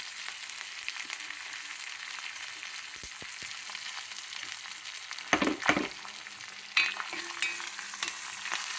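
Curry leaves, garlic and spices spluttering in hot oil for a tempering, a continuous sizzle with bursts of loud crackling and stirring clatter near the end.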